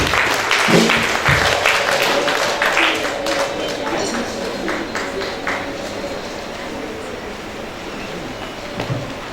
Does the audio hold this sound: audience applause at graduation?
yes